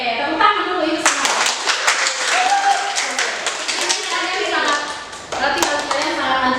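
Children in a classroom clap their hands together in a loud, dense burst that runs nearly the whole time, with a brief dip before a final surge, and some voices mixed in.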